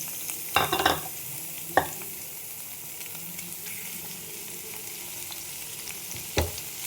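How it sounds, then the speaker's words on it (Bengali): Green chilli, garlic and grated ginger sauté in a pan's leftover oil with no extra oil added, giving a steady soft sizzle broken by a few sharp spoon clinks and scrapes near the start and end. "দেখো এইগুলো আমি একটু সটে করে নিচ্ছি। এখানে দিচ্ছি কাঁচা লঙ্কা, রসুন আর আদা গ্রেট করে নিয়েছি।"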